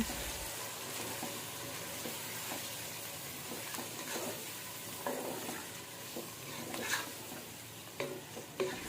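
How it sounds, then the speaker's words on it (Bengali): Beef or goat liver being stirred in a pot with salt for biryani: a soft continuous sizzle under repeated quiet scraping and stirring strokes, a few sharper clacks near the end, faint and close with no talk. "কলিজাগুলো দিয়ে ভালোভাবে নাড়াচাড়া করে মিক্স করে দিচ্ছি"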